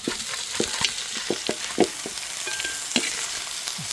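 Fried chicken drumsticks dropped into hot tempering oil sizzle loudly and steadily, with repeated sharp crackles and pops from stirring close by, and no talking.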